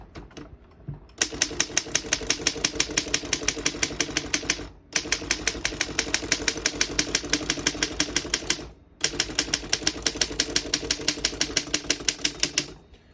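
Rapid, steady mechanical keystrokes on a 1928 Underwood No. 3 desktop typewriter clack in long runs, broken by two brief pauses, close and crisp with no talking.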